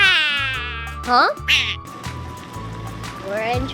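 Cat meows, drawn-out rising and falling cries heard up close, with a child-like voice speaking and other sounds around them.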